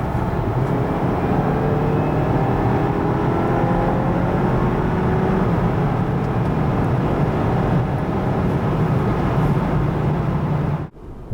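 A 2022 Jeep Compass 4xe plug-in hybrid with a 1.3-litre engine and 240 hp accelerates hard at full throttle, giving a loud, steady engine and road roar with rising tones that cuts off abruptly near the end, with no voices.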